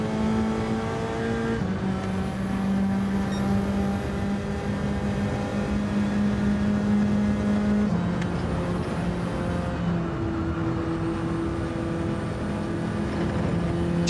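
Race car engines in Gran Turismo 7 during an online lobby race with a Bugatti Veyron, a sustained loud engine drone held at high revs with shifts in pitch as gears change, steady throughout without talk.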